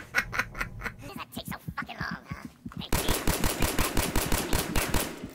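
Rapid gunfire in Fallout 4 crackles in short sharp bursts at first, then settles into a steady, fast, loud stream of automatic shots.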